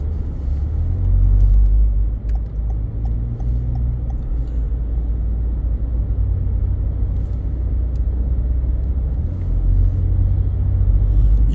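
A car moves through heavy Atlanta commute traffic near Spaghetti Junction toward Mableton, giving a steady loud low road rumble and engine drone that carries on without a break, with no talking.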